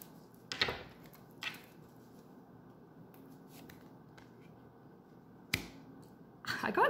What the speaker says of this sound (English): I'm gonna just shuffle and pull a few